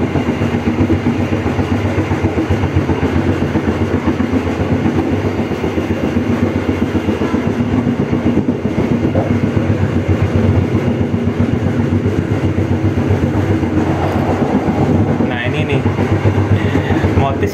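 A train rumbles past on the rails near Bekasi, Indonesia, as the Argo Bromo Anggrek passes, with steady mechanical noise and rhythmic clatter, loud and close throughout.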